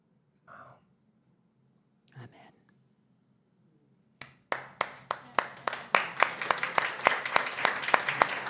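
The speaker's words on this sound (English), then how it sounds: "We're doing a real applause here." A few isolated claps come first, then an audience breaks into applause that swells and grows denser, bright and close.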